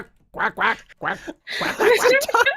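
A human voice imitates a duck, giving a run of nasal quacks: two quick ones, a pause, another, then a longer, busier string of quacking sounds, close and loud.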